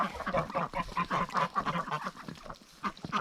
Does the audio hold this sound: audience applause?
no